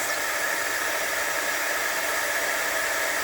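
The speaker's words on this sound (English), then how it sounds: "I'm going to turn on my heat tool." Constant, loud whooshing roar of an embossing heat tool blowing hot air, steady and unbroken throughout.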